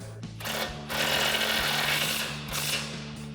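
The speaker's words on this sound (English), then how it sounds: "Then we'll tighten this back down with our 18 mil socket and swivel adapter." A socket wrench with an 18 mm socket and swivel adapter tightens a suspension nut on a Chevrolet Silverado 1500 during a Bilstein B8 6112 front leveling kit install, producing loud, rough mechanical bursts of rattling with brief pauses between.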